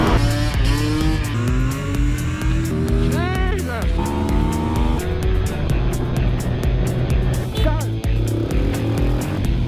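A 2020 KTM 250 EXC-F enduro motorcycle ridden at full power, its engine revving hard and rising in pitch through quick gear changes, loud and close over wind noise, with brief talking from the rider.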